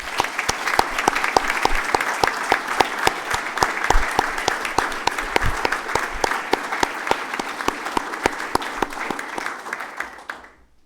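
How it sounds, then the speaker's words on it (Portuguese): Applause at a formal university ceremony, the Universidade da Madeira's anniversary session: a steady wash of hall-wide clapping with crisp individual claps standing out close by, tapering off toward the end. "Uma salva de palmas"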